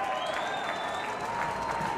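A big crowd at a VFL final between Casey and Williamstown roars and applauds a goal, a dense sustained wash of cheering with a whistle-like tone riding on top.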